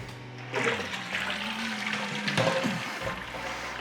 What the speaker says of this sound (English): it's time to pull the malt pipe, let it drain, and sparge